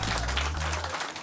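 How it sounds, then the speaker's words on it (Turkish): Audience applauding at a quiz night, a dense wash of clapping from a crowd that fades out toward the end, fairly quiet. "onları bir alkışlayalım"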